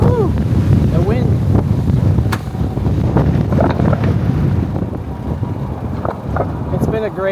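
Wind buffets the microphone while cycling through Tokyo streets, a loud continuous rumbling roar throughout with faint voices or tones poking through underneath.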